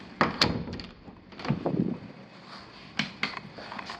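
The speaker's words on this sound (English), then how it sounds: "I close the door behind me." A few dull thuds and a latch-like clack as an interior door swings shut, followed by quieter knocks and handling sounds nearby.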